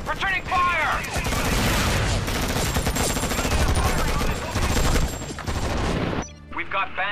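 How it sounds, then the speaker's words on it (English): Bursts of rapid automatic gunfire during an ambush in the video game Act of War, dense and loud for most of the stretch before thinning out, with voices faintly mixed in. "We're under attack! Returning fire!"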